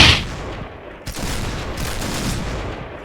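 DSR-1 sniper rifle firing in the game Point Blank, one sharp loud shot at the start, followed by a noisy stretch of crackling gunfire and battle noise at moderate distance.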